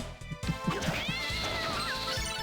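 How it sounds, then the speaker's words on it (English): A summoned cat meows in Castlevania: Dawn of Sorrow, a sliding, drawn-out feline cry over a run of rhythmic thumps, with a brief crash at the start, all under a game soundtrack. "Summon a cat."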